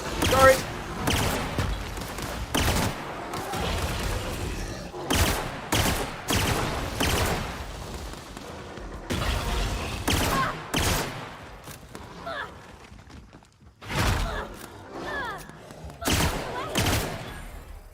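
Bursts of gunfire from the player's weapon in The Outer Worlds, a sci-fi open-world shooter RPG, come in repeated loud volleys with short gaps, while a voice talks in between.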